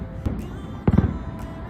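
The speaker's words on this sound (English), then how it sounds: "we could see fireworks from Disneyland at the front of our hotel." Fireworks at Disneyland, heard from a nearby hotel, give distant muffled booms and pops, one early and a louder cluster in the middle, over a steady outdoor background.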